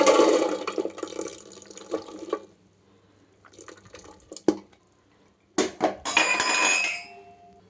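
Bursts of splashing water poured into a metal pressure cooker, stopping and starting, with a few clinks of metal between pours.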